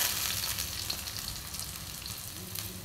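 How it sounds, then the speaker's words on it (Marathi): Onion with chilies, red chili powder, salt and turmeric sizzles in a pan, a soft continuous frying hiss with faint stirring, close but fairly quiet and steady throughout. "कांदा परतून घेऊ थोडासा"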